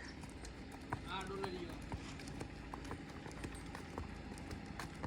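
A mare being ridden clip-clops along with steady hoof beats throughout, close and fairly loud, while people talk over it.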